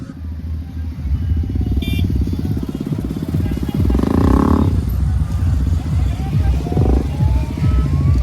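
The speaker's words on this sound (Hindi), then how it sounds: "तो भाई यहाँ पे एक से एक गाड़ियाँ एक से एक बाइकें आ रही है।" Motorcycles and other vehicles rolling past in a Nagar Kirtan street procession in Alwar, loud continuous engine drone and revving close by, with a passing swell midway and crowd chatter mixed in.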